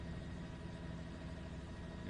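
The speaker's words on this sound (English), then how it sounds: "you can see some of the motorcycles there celebrating. Like a dirt bike there." Motorcycles and a dirt bike idling during a street procession for a memorial service, a steady low engine rumble running continuously and fairly loud throughout, with no talk.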